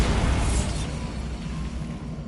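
A Bombarda spell explosion in Hogwarts Legacy, one loud, dense burst with deep rumble that stays strong and slowly fades without dying out, heard alone.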